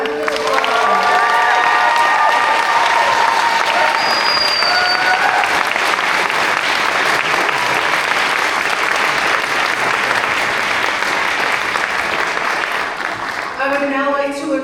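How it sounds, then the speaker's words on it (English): A crowd applauds MSW graduates at a Florida State University social work graduation ceremony, with sustained loud clapping and some cheers and shouts over roughly fifteen seconds, and brief voices near the end. "Let's give them a round of applause."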